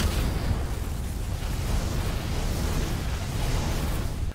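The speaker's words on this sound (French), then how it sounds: "où Ayolia va affronter Shaka, grosse explosion d'énergie et tout." A huge energy explosion in a Saint Seiya anime battle, a loud, dense roaring blast of noise that rumbles on continuously for several seconds before cutting off abruptly.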